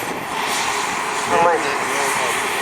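A large radio-controlled model of a V-bomber jet, a Victor, flying at an RC aircraft display day at an air museum in Elvington, York, giving a loud, steady roaring whoosh with a slight pitch sweep as it passes.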